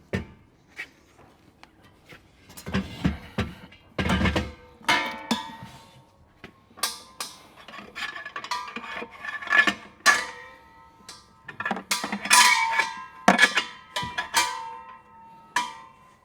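A 20-pound propane cylinder being refitted into a 2020 InTech Luna Rover RV, with scattered metallic clanks, knocks and rattles at irregular intervals, close and fairly quiet between hits.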